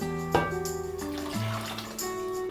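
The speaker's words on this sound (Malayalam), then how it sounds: "ഇതിൽ തന്നെ ഞാൻ കുറച്ച് വെള്ളം ഒഴിച്ച് കൊടുക്കുന്നുണ്ട്" Water poured into a cooking pot of Kerala rasam, a short gushing splash of liquid heard close and alone.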